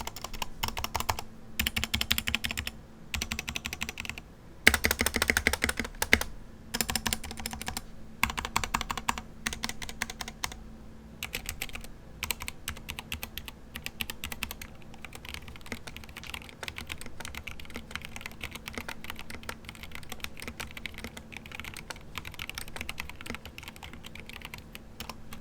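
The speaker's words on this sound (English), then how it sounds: "here's what it sounds like before we do anything to the board" Typing on a keyboard fitted with dye-sub PBT keycaps, stock and unmodded, with steady close clacking keystrokes in bursts and brief pauses and no voices.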